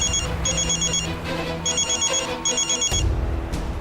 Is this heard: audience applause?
no